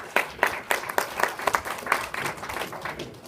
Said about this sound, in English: Give him a round of applause when he comes up here.